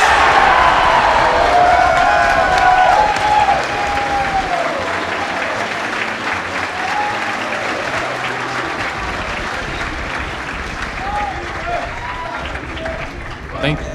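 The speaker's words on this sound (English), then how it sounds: "Can we just get a huge round of applause for Behemoth here?" A large crowd at a Super Metroid speedrun race event applauds and cheers loudly, the clapping easing into a sustained softer roar, with voices over the crowd.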